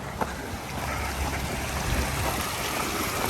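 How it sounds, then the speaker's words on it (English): Creek water streaming steadily alongside a steep canyon road, a broad continuous rushing wash with faint low rumbling, no talking. "this is the creek"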